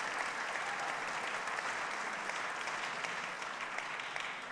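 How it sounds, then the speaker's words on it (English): Steady, dense round of applause from a large audience at a state government address, continuous and even throughout with no talk over it. "yes, give him a round of applause"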